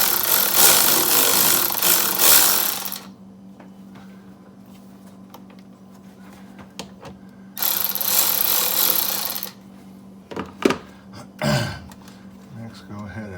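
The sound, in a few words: loosening a 10 mm clamp bolt on a GR Corolla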